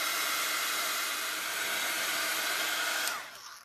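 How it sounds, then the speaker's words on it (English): A heat gun blows steadily on a mixed media project, a loud continuous hiss of hot air that runs alone for about three seconds before cutting off and fading away. "And I take the heat gun and start drying."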